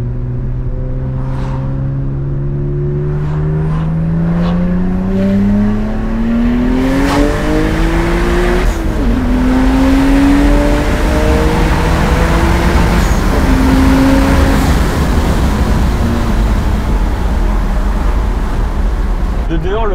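A tuned BMW 135i with a Stage 3 upgrade revs and accelerates hard, its pitch sweeping upward in rising pulls, loud and close, with voices talking over it.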